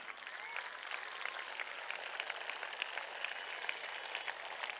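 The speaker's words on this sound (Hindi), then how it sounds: "परमेश्वर को बच्चे सब अपने ऊंचे ताली बजा के उनको धन्यवाद दें" Children clap together in a school gathering, a soft, steady patter of many hands heard from a distance, faint and continuous without pauses.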